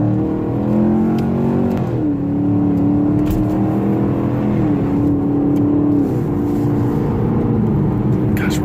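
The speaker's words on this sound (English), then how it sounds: "Now let's hear that exhaust note." A sports car engine revs and pulls hard, its deep exhaust note rising and falling through several throttle blips, loud and close throughout.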